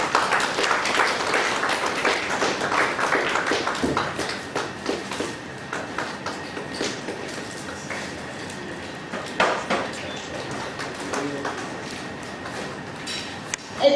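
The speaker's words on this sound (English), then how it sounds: "Please give them a huge round of applause." Audience applause at a professional study circle meeting as a speaker is welcomed onto the dais, steady dense clapping that thins out over about fourteen seconds with some sharper individual claps.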